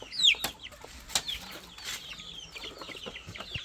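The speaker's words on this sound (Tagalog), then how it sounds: "Ayun yung mga sisiw." Young chicks kept in a pigeon training box on a farm give scattered, faint peeping chirps and soft clucks, with short sharp taps between calls, close by and with no talking.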